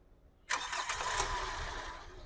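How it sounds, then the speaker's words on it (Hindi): A diesel car with Delphi injectors cranks and catches after a brief quiet moment, then settles into a steady, moderately loud idle with clattery diesel knock. "मैंने गाड़ी को स्टार्ट करके इसकी बैकलीक टेस्ट कर रहा हूँ"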